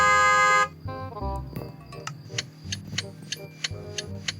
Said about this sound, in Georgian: ეგი სიგნალი.